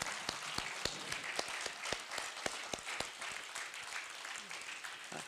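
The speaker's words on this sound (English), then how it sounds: "I'd like to applaud Willie. I hope you'll join me." An audience applauds at a speaking event, a steady patter of many hands clapping at moderate distance, sustained throughout with no voices.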